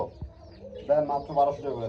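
Rajgolla pigeons coo in low, throaty bursts, two rolling calls in quick succession close by, with a faint thump before them.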